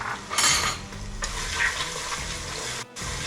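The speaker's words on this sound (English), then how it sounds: "Take your garlic, just dump that right in there." Chopped garlic dropped into hot olive oil for baked ziti sauce, sizzling loudly and steadily up close with a few utensil scrapes against the pan and no talking.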